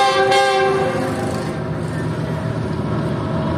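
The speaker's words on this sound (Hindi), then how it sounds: "सामने से इस वक्त मेरे एक GU40 के साथ ट्रेन आ" A Pakistan railway train hauled by a GU40 locomotive approaches. A short, loud horn blast opens the sound, and then a steady, broad rumble of the oncoming train continues.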